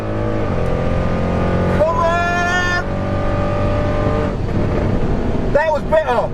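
An Audi RS6 tuned to about 700 bhp accelerates hard down the Santa Pod drag strip. The engine note runs loud and sustained with rising gear pulls, while voices talk over it throughout.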